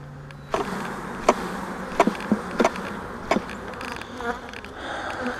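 Honey bees from a mating nuc buzzing after being shaken off a frame, a close, steady insect drone broken by several sharp knocks and taps.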